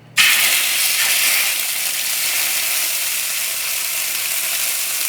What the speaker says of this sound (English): you're going to hear a sizzle.